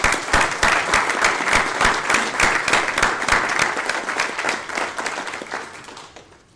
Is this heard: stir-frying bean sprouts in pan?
no